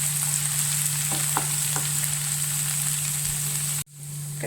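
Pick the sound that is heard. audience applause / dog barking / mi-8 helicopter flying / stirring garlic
stirring garlic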